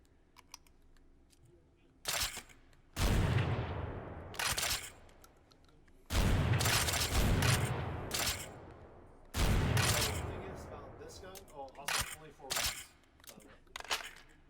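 Shotgun fire in the VR shooter game H3VR: several loud, sharp blasts with decaying tails, spaced a few seconds apart, with lighter handling clicks and faint talk between shots.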